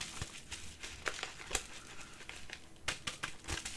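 A mail package of Pokémon and Magic: The Gathering cards crinkles quietly as it is opened up close, sounding in short irregular rustles and crackles of plastic and paper.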